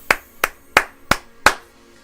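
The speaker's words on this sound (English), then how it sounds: "I need you to give a round of applause to the X-Man" Five sharp, evenly spaced claps ring out close and loud with brief gaps between them, an applause-style salute for a player, with no talk.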